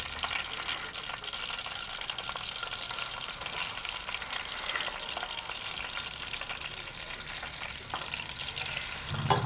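Masala paste and oil being stirred in a pan for a village-style Andhra fish curry, a steady sizzling fry with scraping stir noises running throughout, louder clatter near the end.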